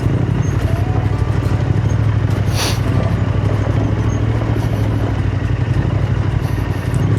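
A motorcycle rides over a rough, slippery dirt trail, its engine droning loudly and continuously close to the microphone along with rattling and clatter from the bumpy ground.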